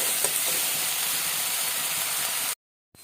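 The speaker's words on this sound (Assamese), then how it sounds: "এতিয়া এইখিনি একেলগে মই অলপ টাইম ফ্ৰাই কৰিম।" Chopped onions frying in a pan for an Assamese eel fish curry, a steady bright hiss and sizzle that runs evenly for about two and a half seconds and then cuts off abruptly.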